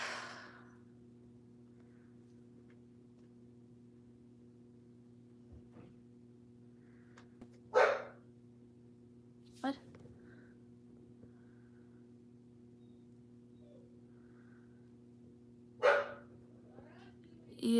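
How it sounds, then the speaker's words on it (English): Upset puppy barking indoors, a few sharp separate barks with long quiet gaps between them and a low steady hum underneath, and one brief spoken word partway through. "The dog is still barking."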